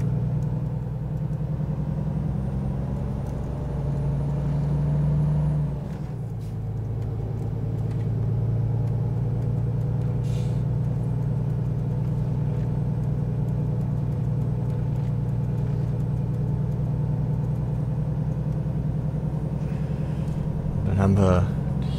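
Heavy freight truck from a trucking simulator game, driving off-road near Kansas City, gives a steady low engine drone and rumble that runs throughout with one brief shift in pitch; faint talk sits underneath.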